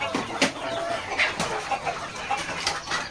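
A village hen clucking softly with her chicks among mixed chickens, with scattered short clucks and chirps close by and steady farmyard background, no talk.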